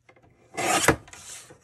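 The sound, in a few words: trimming card stock for a snow globe card base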